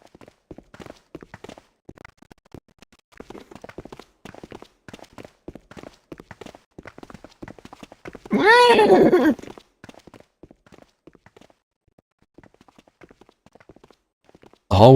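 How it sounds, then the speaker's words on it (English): Footsteps in the video game 999 patter steadily like galloping horses, a quick irregular clatter of light hits heard mostly alone for about fifteen seconds, with a brief burst of a loud voiced sound partway through. "it's not music, it's walking. It sounds like horses galloping."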